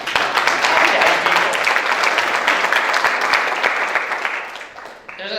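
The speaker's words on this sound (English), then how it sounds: "you need to give yourself a round of applause for just being" An audience at a school district's State of the District address applauds, a dense, sustained burst of clapping that holds steady for several seconds before tapering off near the end.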